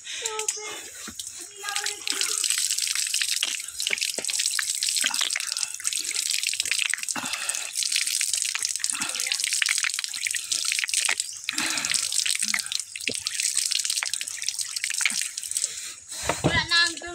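Water running steadily inside a cave in San Rafael, Roxas, Oriental Mindoro, a constant hissing flow with scattered drips and splashes, close and loud, while voices talk intermittently underneath.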